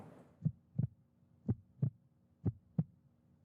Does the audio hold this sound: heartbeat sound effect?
yes